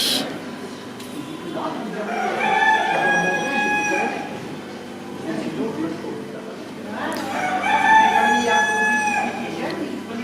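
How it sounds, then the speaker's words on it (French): A rooster crows twice and chickens cluck at a garden centre, fairly close and loud, with people talking in the background. "Et après, c'est du poulet."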